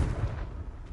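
The Confringo blasting spell in the Hogwarts Legacy video game detonates as a single deep, booming explosion. It is loud and close, with low rumble that decays over about a second.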